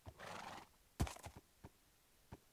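A horse in a Minecraft modpack whinnies once in a long, clear neigh, then short hoof clip-clops and thumps follow at irregular intervals, with no talking.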